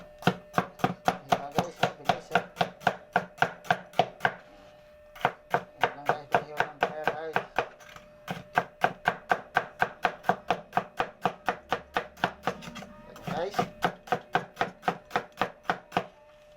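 Bitter gourd (ampalaya) being chopped with a large bolo knife on a board: fast, even runs of sharp knocks in bursts with brief pauses between, close and loud, no voices.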